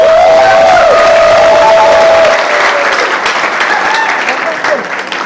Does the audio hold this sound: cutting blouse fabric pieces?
no